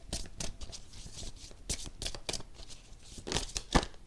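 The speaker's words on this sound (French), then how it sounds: "Alors, on va prendre une carte. Une carte mission de vie." Playing cards shuffled and drawn from a deck, a run of crisp, close riffling and flicking snaps in quick irregular bursts with no talk.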